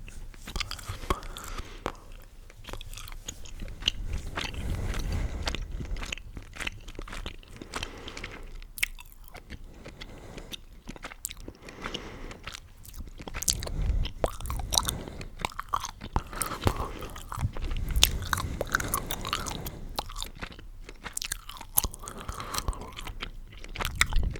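Gum chewing up close in a quiet room, with steady wet smacking, biting and crunchy mouth clicks going on throughout without pause.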